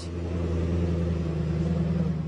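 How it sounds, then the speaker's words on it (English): A fancy car arriving rolls past with a steady low engine rumble and mid-range hum, fairly close and even in level for a couple of seconds, no talking. "Others arrive in fancy cars, which will fill the on-site parking lot."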